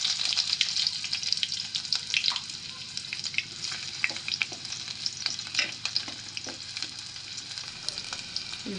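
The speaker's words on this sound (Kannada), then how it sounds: "ಇದು ಎಣ್ಣೆ ಬಿಸಿ ಆಯ್ತು ರೀ ಫ್ರೆಂಡ್ಸ. ಇದಕ್ಕೆ ಉಳ್ಳಾಗಡ್ಡಿ ಹಾಕ್ಬೇಕ್ರಿ" Onions frying in hot oil for a brinjal dish give a steady, close sizzle that runs throughout, with light stirring scrapes and clinks on top.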